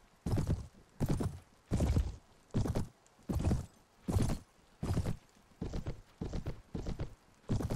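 Horse hooves galloping in the medieval battle game Mount & Blade, with about a dozen loud, evenly spaced clip-clop bursts in a steady rhythm and close by.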